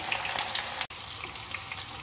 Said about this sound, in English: I'm frying the cauliflower and I'm going to leave it in the hot oil until it's golden brown.